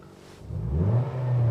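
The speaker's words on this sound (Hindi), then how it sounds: "अब मैं इसके रेस दे रहा हूं" A car engine revs up from idle into a rising, sustained drone, close by and growing louder, with no talk over it.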